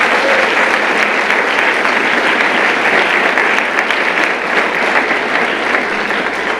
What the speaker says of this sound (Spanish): te pido que por favor le des un fuerte aplauso